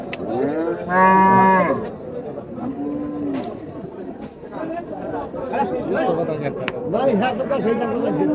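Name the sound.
cattle mooing at a livestock market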